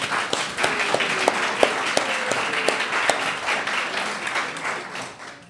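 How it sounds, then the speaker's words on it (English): A crowd at a 2018 primary candidate forum for a state House legislative seat breaks into steady applause, dense clapping holding for several seconds before starting to thin, with a few faint voices mixed in. "if you want to applaud, you can go ahead and get it out of your system right now"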